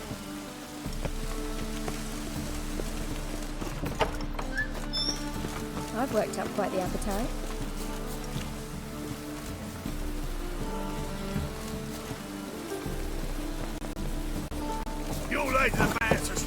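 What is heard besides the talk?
rain falling, from video game Witcher 3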